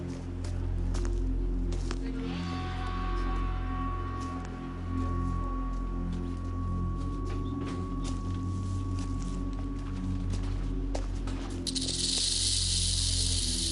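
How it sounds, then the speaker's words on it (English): A rattlesnake's tail rattle, a steady buzzing sustained through most of the stretch over a low background rumble, ending with a brief sharper burst. "If the sound of the rattle fails to deter this intruder"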